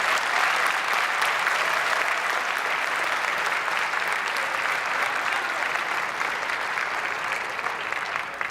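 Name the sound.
applause at a swearing-in ceremony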